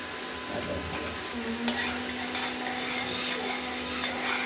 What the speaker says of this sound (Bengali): ধীরে ধীরে কষানোতে তেলটা বেরোচ্ছে